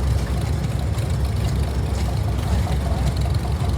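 A 1948 Case LA propane tractor running at a historical tractor parade, its low engine rumble steady and close, with people talking faintly in the background.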